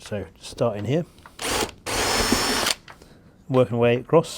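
A 2.5mm drill bores wiring holes through a model railway baseboard in two close, loud bursts of whining drilling, with someone talking before and after.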